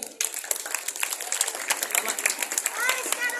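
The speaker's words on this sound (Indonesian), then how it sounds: "Tepuk tangan dulu dong." Junior high school students clapping at an Isra' Mi'raj religious talk in Jakarta, a dense, lively round of applause from a packed room with children's voices and shouts mixed in throughout.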